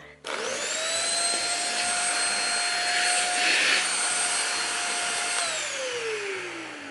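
A Thompson dust mite vacuum cleaner for beds switches on and runs steadily with a loud, constant high whine and airflow roar, then winds down at the end.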